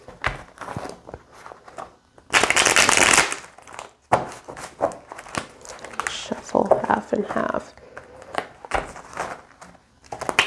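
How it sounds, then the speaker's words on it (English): A deck of tarot cards is shuffled by hand in close, dry bursts of riffling and rustling, with a dense flurry near the start and lighter, irregular shuffles after it, as someone talks on and off. "Let me just shuffle half and half."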